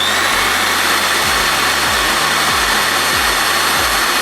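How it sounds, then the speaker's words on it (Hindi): An electric drill machine runs on an Eastman solar inverter during a full-load test alongside a fan and bulbs. It gives a loud, steady motor whine with recurring low dips in the hum. "अब ड्रिल मशीन को भी हम ऑन करते हैं"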